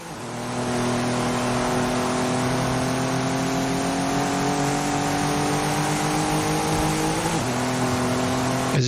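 A super saloon race car in a racing video game on a wet stadium circuit, its engine droning steadily at high revs with rising harmonic tones and a brief dip near the end, loud and continuous.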